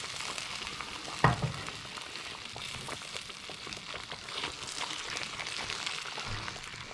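Ingredients are stirred in a hot, dry frying pan for a Massaman beef curry: a steady sizzle and crackle with a short sharp scrape of the utensil near the start, continuing evenly throughout.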